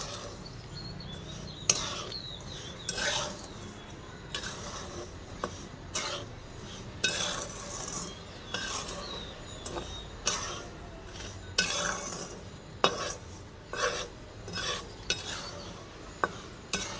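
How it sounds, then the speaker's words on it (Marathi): Peanuts being stirred in a pan with salt while roasting for a puffed rice snack, with repeated scraping and clinking strokes and a dry rattling texture throughout, no talk. "तोपर्यंत ह्याला सतत हलवत राहायचं"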